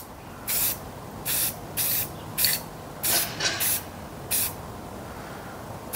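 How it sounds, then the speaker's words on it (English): Aerosol spray paint can dusting a metal part, seven short hissing bursts of about half a second each with pauses between, close and loud over a quiet background. "let me go get a can of spray paint."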